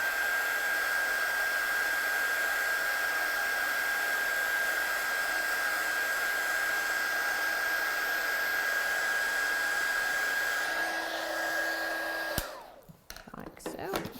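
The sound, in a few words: heat tool or dryer drying stamped card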